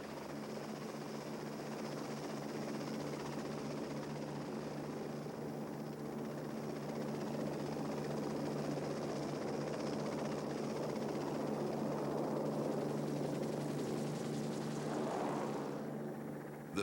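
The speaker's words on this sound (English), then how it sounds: "The result was the XH-51, a somewhat bigger and more refined helicopter designed and built solely to test the capabilities of Lockheed's" A Lockheed XH-51 rigid-rotor helicopter flies past with a steady, continuous rotor and engine drone, loud and sustained throughout with a low thudding hum and no speech.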